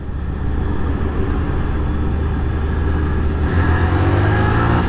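A 2001 Honda Titan 125 ES motorcycle accelerates close by, its engine drone rising steadily and holding loud throughout, with no talk over it.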